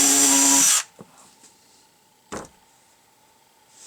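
A power drill with a 7/32 drill bit whirs loudly for under a second while drilling a hole in a game feeder, then stops, followed by a few faint clicks and a sharp knock in a quiet room.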